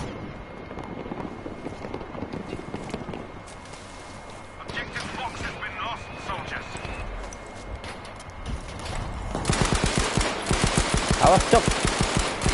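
Gunfire in Battlefield 5, rapid bursts of shots, sparse early then a dense, louder rattling volley toward the end, with excited talk over the fighting.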